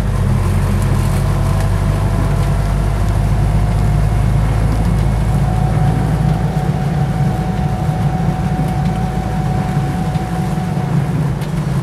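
Ex-army Land Rover Lightweight 2 driving along, a loud steady engine drone with low rumble and tyre roar, the pitch easing slightly partway through, no talk.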